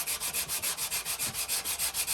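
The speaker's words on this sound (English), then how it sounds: "Just spend a wee bit of time sanding it now." Sandpaper, around 120 grit, rubs briskly back and forth over a wooden hand plane holder, a close, rhythmic scratching of about ten even strokes with no talk.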